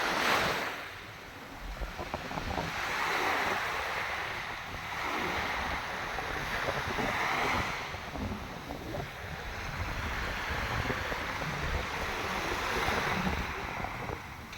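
Sea waves wash onto a beach with coconut palms, a steady surf roar swelling and receding in slow surges, mixed with wind buffeting the microphone.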